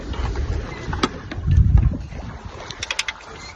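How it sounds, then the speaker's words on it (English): A sailboat heads south at sea in the southern hemisphere, with gusty wind buffeting the microphone, water sloshing against the hull, and scattered creaks and knocks aboard. "We're sailing directly south at this moment on the southern hemisphere."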